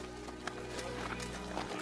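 Horse hooves clip-clop faintly in a medieval action film scene, a few soft irregular hoof strikes set under a low ambient hum.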